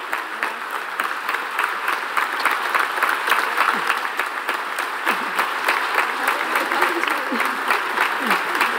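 Sustained audience applause fills a charity gala hall, a dense steady wash of many hands clapping at even loudness throughout, with a few voices and cheers faintly mixed in.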